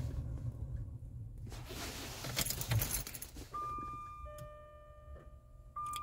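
Keys jangle in the ignition of a Jaguar X-Type as it is switched off, a dense metallic rattle close by, followed by steady electronic warning tones and a faint ticking.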